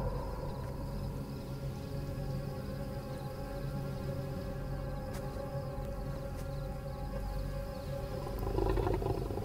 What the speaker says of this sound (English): It sounds like a dog. Or a wolf. With rabies or something.